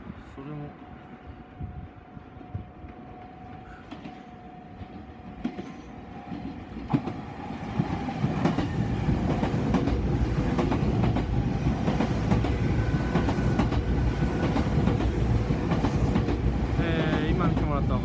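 Nankai Koya Line and Main Line electric trains rumble and clatter through Hagi-no-chaya station, building from a distant approach to a loud, steady roar of wheels on rails, with faint voices underneath.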